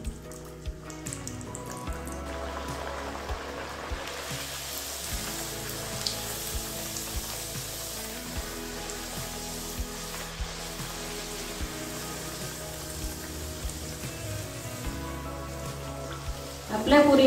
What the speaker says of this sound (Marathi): आता आपलं तेल तापलेलं आहे, त्यामध्ये आपण पुरी तळायला घेऊ.